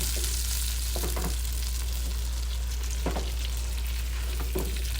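A T-bone steak sizzles steadily and loudly in a pan while melted butter is basted over it. Occasional spoon strokes and soft scrapes sit within the constant frying hiss, with a low hum underneath.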